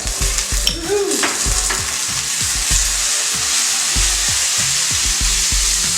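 Ingredients sizzle steadily in a pan over a low flame, a constant close frying hiss broken by soft low knocks and scrapes from stirring.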